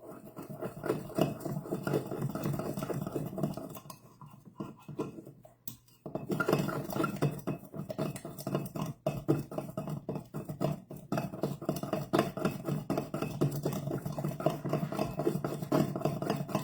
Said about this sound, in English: So you just kind of mix these guys up real nice.